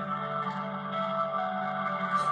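Tinny, compressed hold music from a doctors' surgery plays continuously through a telephone line, muffled and steady, with no voices over it.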